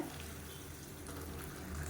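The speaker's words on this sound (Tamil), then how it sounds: "தண்ணி சேர்த்துக்கலாம். நல்லா சுடு தண்ணியாக சேர்த்துக்கோங்க." Hot water is poured into a pan of cabbage masala curry, giving a steady close gushing splash over faint sizzling, with no talk.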